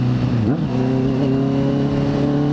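A Honda CB650F motorcycle with a 4x1 full aftermarket exhaust roars close by, a deep steady four-cylinder drone that dips briefly and then holds a strong, even rumble.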